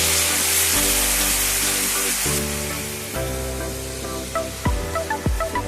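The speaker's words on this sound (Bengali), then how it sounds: "এর মধ্যে হালকা জল দিয়ে দিচ্ছি।" Water poured into a hot pan of potatoes and parwal coated in cumin and coriander powder, giving a loud, broad hiss and sizzle that settles into steady bubbling, with a few knocks of a spoon near the end.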